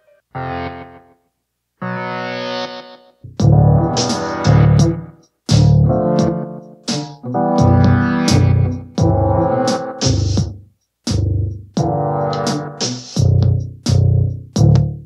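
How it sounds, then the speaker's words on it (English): Music processed through a delay echo effect in the N-Track 9 mixer app, with sustained tonal notes in phrased bursts that repeat and trail off, loud and close throughout. "I want to open up the mixer and add a delay to this one"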